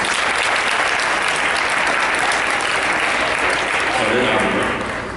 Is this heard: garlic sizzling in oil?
no